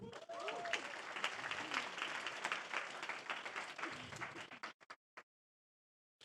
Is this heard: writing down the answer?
no